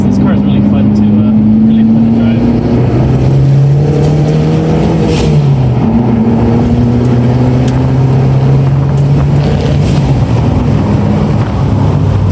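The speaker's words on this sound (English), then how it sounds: "I think this car is really fun to drive." A 2011 Mitsubishi Lancer engine drones steadily while driving, its pitch rising and falling gently as the car accelerates and eases off, with a constant road and cabin rumble underneath.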